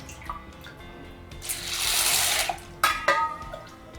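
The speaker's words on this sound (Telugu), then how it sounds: "ఇదంతా శుభ్రంగా వాష్ చేసి కడిగి వాటర్ పోసుకుని" Split chana dal is washed in water: a swelling splash and swish of water rises and fades, followed by a few light clinks of a vessel. The sounds are close and moderately loud, with no speech.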